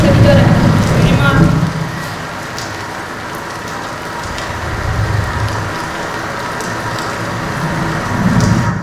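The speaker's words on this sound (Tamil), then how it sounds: "மழை பெய்யுது" Steady rain plays as a stage sound effect at a school annual day performance, a continuous hiss of falling drops with swells in loudness, heard through a hall sound system with faint voices in the background.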